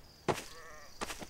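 A sheep in the survival game Survivalz bleats twice in quick succession, short wavering cries heard alone against a quiet background.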